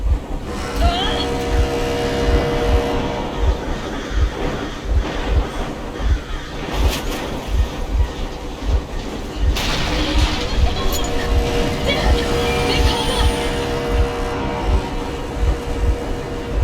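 In the Metro Exodus video game, a train engine runs with a steady rhythmic rumble and clatter of wheels, loud and close, while a voice speaks over the mechanical noise.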